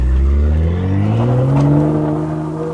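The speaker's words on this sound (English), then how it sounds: "I hear a loud car. It's an M2." A loud BMW M2 revs hard as it passes close by, its engine note climbing steadily in a continuous roar with no talk over it.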